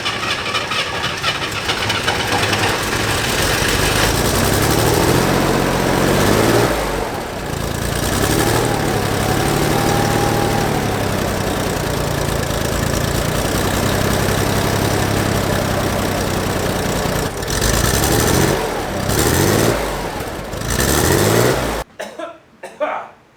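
Flat-six car engine idling through its factory OEM exhaust, a steady low rumble held for about twenty seconds, close and fairly loud, cutting out abruptly near the end.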